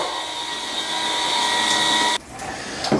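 An electric spin scrubber whirs at high speed while scrubbing bathroom corners, a steady close motor whine that cuts off abruptly near the end, followed by a short rising clatter.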